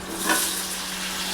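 Potatoes frying in mustard oil in a pan for a Bengali curry, a steady soft sizzle with a faint hum underneath, no voices.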